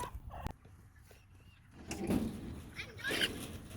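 Backyard chickens near a moving chick tractor give soft, scattered clucks and fowl calls, fairly close, over a low rustling background with faint murmuring.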